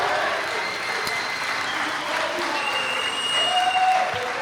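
Applause from the audience at a city council meeting, a broad, steady clatter of many hands, fairly loud throughout with some faint voices and brief tones mixed in.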